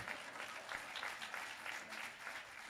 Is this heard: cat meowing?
no